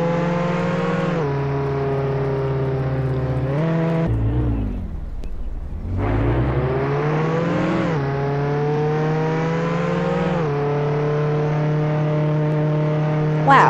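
Engine hum of a car driven in the Roblox game Piggy, a steady synthetic drone that rises and falls in pitch as it speeds up, briefly dips and revs again, loud and continuous.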